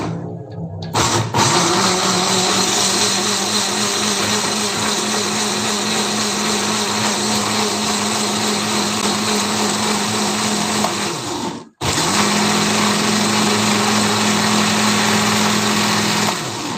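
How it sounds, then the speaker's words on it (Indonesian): Electric blender grinding spice paste for chicken tongseng, a steady loud motor whir running continuously with a brief cut-off near the end before restarting, no talking. "Sebentar, saya mau ngeblender dulu bumbu yang tadi."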